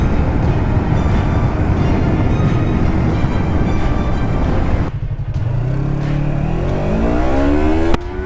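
A 300cc sport motorcycle accelerates hard, a loud, close engine wail climbing steadily through the gears, then rising pitch sweeps after a brief drop around an upshift, with no talking.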